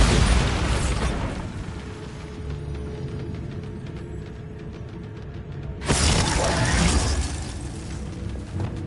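A Bombarda blasting spell from Hogwarts Legacy goes off twice as loud explosive bursts with shattering crackle. The first opens the clip, a steadier rumble follows, and a second sharp blast comes near the end.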